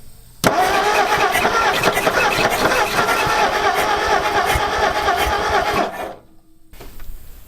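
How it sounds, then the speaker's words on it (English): An abandoned panel truck's engine, sitting unused for decades, cranks and catches, roaring loud and rough for about six seconds with irregular popping backfires before cutting out abruptly, leaving a quieter tail with faint voices. "Almost sounded like it was backfiring."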